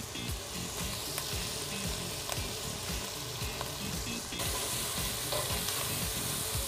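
Chopped garlic sizzles with squid in a hot frying pan for a Provençal-style squid sandwich, a steady close crackle with occasional stirring scrapes and no talking.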